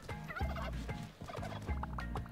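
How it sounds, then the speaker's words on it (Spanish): Repeated turkey gobbles from the cave game Spelunky 2, loud, close and continuous across a short stretch, rattling bursts rising and falling with layered game sound effects beneath. "quiero pasar con los pavos y no gastar bombas"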